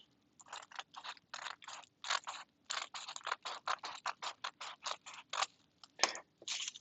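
Scissors snipping through kite material, a steady run of about twenty crisp, close cuts in quick rhythm with brief pauses between strokes, heard alone.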